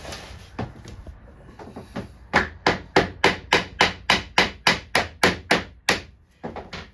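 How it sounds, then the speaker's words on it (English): A replaceable-head hammer taps floor boards into place inside a Ford E450 shuttle bus conversion, about fifteen sharp, evenly spaced knocks in a quick steady rhythm, close and clear, after a few quieter handling sounds. "just put your board in place here and tap it with your replaceable hammer"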